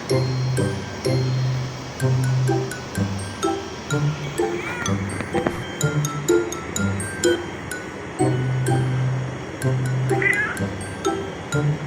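A stray cat meows again and again, loud and close, with drawn-out cries in a steady rhythm over a low background hum.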